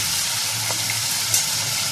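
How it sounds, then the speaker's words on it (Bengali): Hilsa fish pieces frying in a pan of hot oil give off a steady, close sizzle with a faint crackle, continuous and unbroken for the short stretch with no voices. "এখন আমি মাছগুলো অল্প অল্প করে ভেজে নিচ্ছি"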